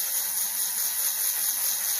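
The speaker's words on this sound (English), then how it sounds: "Until my Dremel's losing power." A Dremel rotary tool runs nonstop while polishing dinosaur gembone, giving a steady high-pitched whir with a slight sag as it loses power, close and alone.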